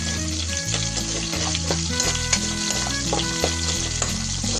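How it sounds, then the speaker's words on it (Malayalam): Bilimbi pickle ingredients sautéed in hot oil in a pan, crackling and sizzling loudly as they are stirred, with scattered scraping clicks over a continuous music track and no voices. "ഇതെല്ലാം കൂടെ ഒന്ന് നന്നായിട്ട് മുരിഞ്ഞ് വരുന്ന രീതിയിലൊന്ന് ഇളക്കി കൊടുക്കും"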